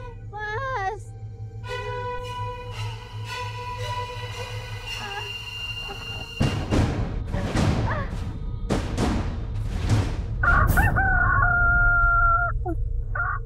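Chickens and a rooster near a graveyard crow and cluck repeatedly, the calls overlapping and growing busier, with loud thumps and scuffling partway through and people talking underneath.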